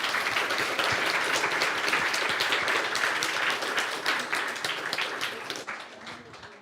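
Conference audience in a lecture hall applauding after a talk, a dense burst of clapping that stays strong and then tapers off toward the end, with no talking over it.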